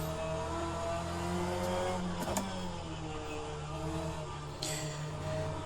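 Cupra Leon touring race car in rFactor 2, engine droning steadily under throttle while accelerating through a corner, with harmonic engine tone throughout and a brief sharper transient midway; no talk.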